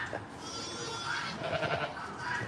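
A farm goat bleats several times at close range, the calls wavering over a steady background hum with nobody talking.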